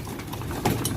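A racing pigeon at a loft in Los Baños, Laguna gives a short, close coo over a steady low background hum, lasting about a second.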